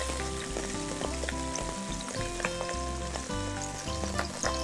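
Ginger, rice wine and oyster sauce sizzle in a wok for a sesame-oil kidney and liver dish, a continuous loud frying crackle with faint background music and no talking.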